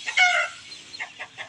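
Young village chickens clucking after a fight: one loud, bright squawk near the start, followed by several short, softer clucks close by, with no talk.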